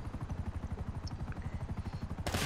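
A helicopter in GTA V Online thumps with a fast, steady rotor chop close by, ending in a sudden burst of noise.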